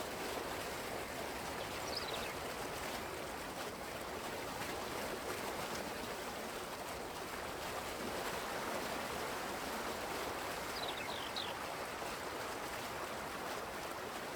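Steady, faint rushing of running water like a small brook in Farming Simulator 19 on the Welker Farms map, a continuous trickling wash with a couple of brief high chirps, heard alone.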